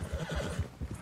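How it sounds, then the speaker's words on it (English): A horse in the Red Dead Redemption 2 video game gives a short whinny over the soft clip-clop of hooves, brief and fairly quiet. "It's a very good horse that you can get for free."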